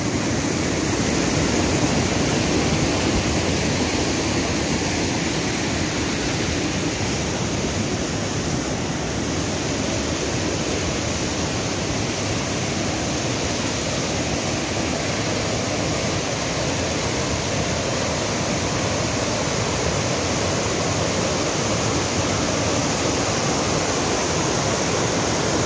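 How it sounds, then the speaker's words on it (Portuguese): The Juí waterfall on the Macaé River in Macaé de Cima roars in a loud, constant rush of falling water, a dense unbroken wash that holds steady throughout with no voices. "Cachoeira do Juí, ó, que lindo, ó."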